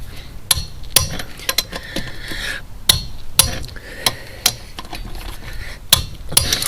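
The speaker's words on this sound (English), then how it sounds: "you want to torque these down to the specification of your vehicle" Wheel lug nuts on a VW Type-3 being torqued down with a torque wrench to 100 foot-pounds, giving a series of sharp metallic clicks and clinks at an irregular pace, close and distinct.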